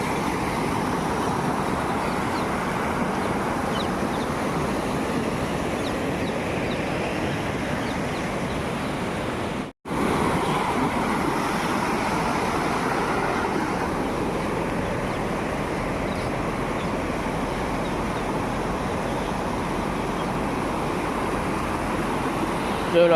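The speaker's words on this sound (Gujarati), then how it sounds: "સીધું પાણી આ બાજુ કેટલું નીકળે જોઈ લો." Floodwater from the Banas river near Abiyana rushes through a roadside culvert in a loud, steady roar that is unbroken except for a brief dropout midway.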